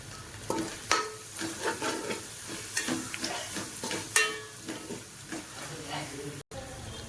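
Onions with chopped mint sizzle and fry in a pan for mutton nonbu kanji, punctuated by repeated scraping and clinking as a utensil stirs them, steady and close.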